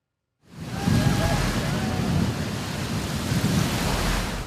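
Surf rolls onto the big sandy beach at Odesa's Fontan 10th station, a dense, continuous roar of breaking waves that swells in after a moment of silence and holds steady and loud.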